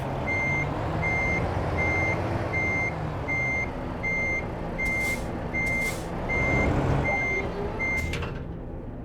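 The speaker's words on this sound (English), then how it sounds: "slowly reverse under the trailer until the fifth wheel hits the kingpin" A truck's reversing alarm in American Truck Simulator beeps in a steady, evenly spaced series over a low engine rumble while the truck backs slowly under a trailer toward the kingpin; a few brief hissing bursts cut in near the end.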